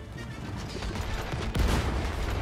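Video-game fireworks in It Takes Two burst in a dense, crackling barrage, a steady rattle of pops that swells into a louder blast midway and stays loud to the end.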